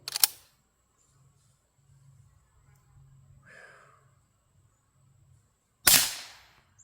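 .22 rifle firing CB Short rounds during outdoor target shooting: two sharp, loud cracks, one at the start and one near the end, separated by quiet with faint movement and a brief breath.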